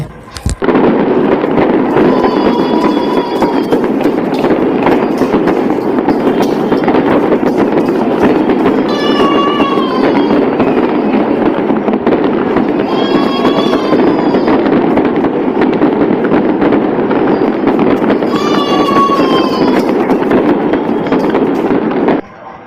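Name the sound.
firecrackers and fireworks exploding for Diwali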